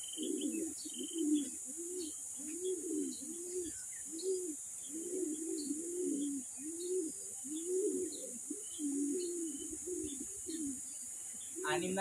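Racing pigeons arriving at a loft after a race from Atimonan, Quezon, cooing in a steady, repeated low rhythm close by, with faint chirps and a hiss of background noise behind.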